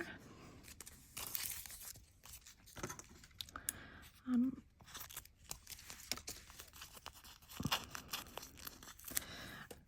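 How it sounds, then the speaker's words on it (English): Metal tape being trimmed for artist trading cards makes faint, close crinkling and tearing snips in scattered short bursts over a quiet background. "I'm trimming it just so that it's easier to work with the tape"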